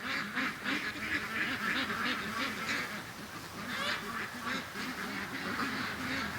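A flock of ducks and little ducklings quacks continuously in a backyard near water, a dense, close chorus of overlapping quacks with honk-like calls rising and falling throughout, no speech.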